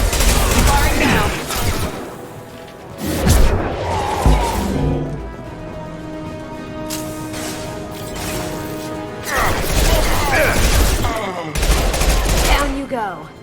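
Bursts of gunfire from the video game Mass Effect 2, loud rapid volleys alternating with stretches of game music and ambience.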